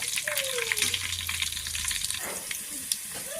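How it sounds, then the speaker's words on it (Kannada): Green chillies frying in oil for a tempering for sweet pumpkin palya, giving a steady close sizzle with light clatter and brief bursts, and no talk over it. "ಬರೀ ಒಗ್ಗರಣೆಯಲ್ಲೇ ಬೇಯಿಸ್ತೀವಿ ಅದಕ್ಕೋಸ್ಕರ ಈ ಒಗ್ಗರಣೆಯಲ್ಲೇ ಬೆಳ್ಳು ಇದು ಹಸಿಮೆಣಸಿನ ಖಾರ ಎಲ್ಲ ಬಿಟ್ಕೋಬೇಕು ಸ್ವಲ್ಪ ಚೆನ್ನಾಗಿ ಫ್ರೈ ಮಾಡಬೇಕು"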